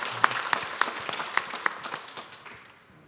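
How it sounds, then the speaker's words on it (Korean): Scattered congregation applause at a church dedication thanksgiving service, a handful of sharp claps over a soft crowd wash that thins out and fades toward silence by the end. "주 뜻 이루시는 하나님께 감사의 박수 올려드리겠습니다"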